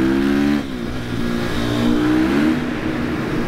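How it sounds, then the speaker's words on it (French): A 2025 KTM 450 EXC-F built as a supermoto accelerates, its single-cylinder engine rising in pitch through a loud, close rev with a brief dip before climbing again. "On va quand même se faire une petite accélération"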